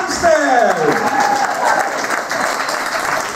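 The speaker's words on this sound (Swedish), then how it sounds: "Den här applåden värmde verkligen" An audience breaks into warm, sustained applause, loud and close, with a voice speaking over the clapping.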